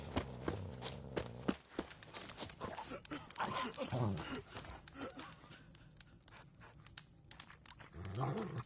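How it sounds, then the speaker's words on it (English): A dog whimpering and panting in a video game, soft intermittent whines and breaths heard faintly between footsteps and spoken dialogue. "Stop whimpering, Hussar."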